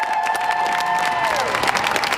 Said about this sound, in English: His blue family was waiting for him with fist bumps and applause as he left the ICU to go to rehab